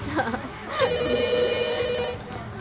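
A phone rings with a steady electronic tone in one sustained burst, heard under indoor voices and background noise.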